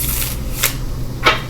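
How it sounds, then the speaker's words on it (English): Tarot cards being shuffled by hand, two short riffling bursts about half a second apart over a low steady hum, with no talking. "We're on our last shuffle."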